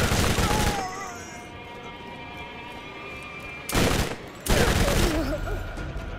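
Bone Shredder, a Tediore SMG from Borderlands 1, firing in the game with two loud bursts of rapid automatic fire, one at the start and another near the end, separated by a quieter stretch of low game ambience.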